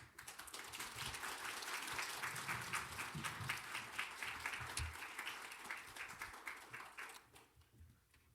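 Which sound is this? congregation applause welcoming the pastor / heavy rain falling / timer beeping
congregation applause welcoming the pastor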